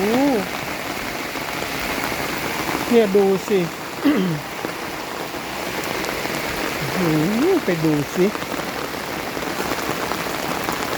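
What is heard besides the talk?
heavy rain during a storm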